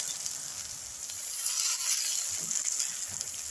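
Gongura leaves fry in hot oil in a pan, giving a steady, bright sizzling hiss that holds throughout with a few faint stirring scrapes underneath.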